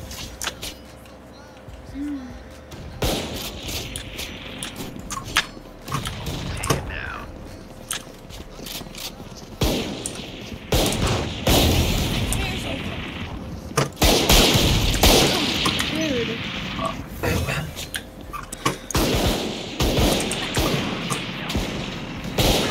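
Shotgun gunfire during a video game match, with repeated sharp blasts and mechanical clatter scattered across a busy game soundscape.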